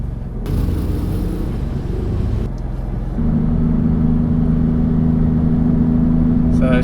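Maserati MC20 engine rev and pull away in first gear along a pit lane, a loud mid-pitched drone that steps up and settles into a steady strong tone, with people talking over it.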